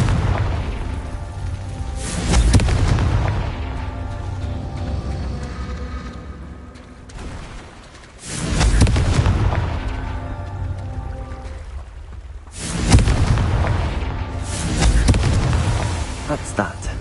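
Confringo, the explosion spell in Hogwarts Legacy, goes off three times as loud blasts spaced several seconds apart. Each burst fades into a rumbling tail, with game sounds in between.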